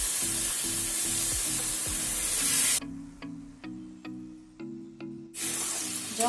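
Water going into fried masala in a pan for Bengali rohu fish curry, a loud steady sizzle that cuts out, returns as a few short hissing bursts, then swells back to a full sizzle.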